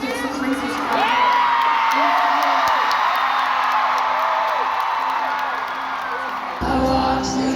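A concert crowd cheering, whooping and screaming continuously in a loud, dense roar that swells and dips, with singing or vocal lines sliding over it.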